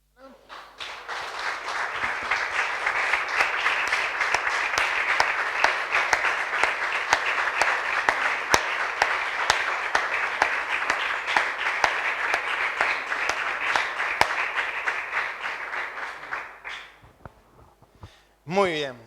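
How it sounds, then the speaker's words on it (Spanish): A church congregation gives a sustained round of applause during a Sunday morning service, loud and dense for about fifteen seconds before fading out, with voices mixed in. "¿Por qué no le damos un aplauso al Espíritu Santo esta mañana?"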